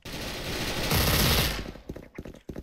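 Dual MP9 submachine guns firing in a first-person shooter game: a dense, continuous burst of rapid automatic fire for about a second and a half, then scattered sharper shots and clatter trailing off.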